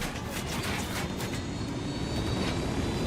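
Aircraft engine droning steadily in Ghost Recon Wildlands as the player flies, a loud continuous roar with a broad hiss and no speech.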